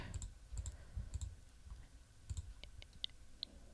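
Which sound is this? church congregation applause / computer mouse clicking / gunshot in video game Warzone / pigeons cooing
computer mouse clicking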